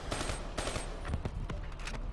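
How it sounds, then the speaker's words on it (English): Fireworks going off outside, heard during a Call of Duty: Black Ops 3 session as a rapid run of sharp crackling bangs, dense and fairly loud, with no voices. "that's a firework, you're going to hear a lot of that"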